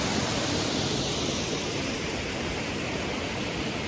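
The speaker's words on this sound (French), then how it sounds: "J'ai toujours apprécié le bruit de l'eau, même si c'est très bruyant." A stream in the Reculée de Baume rushes by in a loud, unbroken roar of water, close and steady throughout with no voices.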